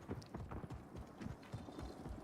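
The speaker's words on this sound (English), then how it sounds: "I heard footsteps stomping through the tents." Heavy footsteps stomp through tents in a video game, a quick series of muffled, thudding beats in an uneven rhythm, fairly faint and close.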